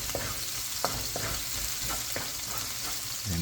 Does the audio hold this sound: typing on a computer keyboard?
no